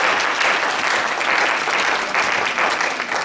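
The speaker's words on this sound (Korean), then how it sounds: "네, 박수 한번 주세요." Steady applause from a church congregation during a Sunday youth service in Auckland, a dense even patter of clapping hands that carries on without a break.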